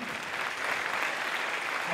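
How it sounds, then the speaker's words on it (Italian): Dense, continuous applause from an audience after a concert by the Banda Musicale Città di Modica, steady and fairly loud throughout with no pauses. "Ancora un applauso"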